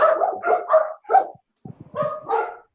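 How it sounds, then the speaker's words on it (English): A dog barks close by in a quick series of sharp yaps, pausing briefly before another few barks, loud and alone without talk. "We got a dog joining us tonight."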